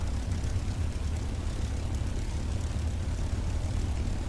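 A Spitfire Mk 1/Mk 2 piston aero engine in the FSX flight simulator runs as a steady, loud propeller drone on the ground, with no distinct backfire pops standing out.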